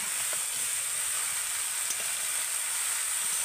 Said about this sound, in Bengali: এবার আমি মশলার সাথে বাঁধাকপিটাকে এইভাবে ভালো করে নেড়ে নেব।